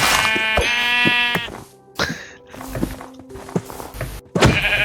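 Several sheep bleat in short wavering calls over a busy survival game soundscape in snow, with a brief pause midway before more bleats follow.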